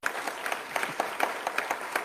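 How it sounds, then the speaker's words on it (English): Audience applause at an address on Nigeria's economic reforms, a short burst of scattered clapping with irregular louder claps, moderately close and without voices over it. "Yes, you can clap for him."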